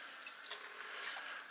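Tap water runs into a sink to rinse cooking ingredients for a lamb curry, a soft, steady splashing flow with faint drips, heard alone at a moderate distance.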